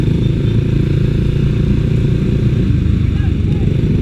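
A motorcycle ridden off after its chain was tightened during an endurance riding challenge, a steady close engine drone with low rumble and constant wind noise throughout.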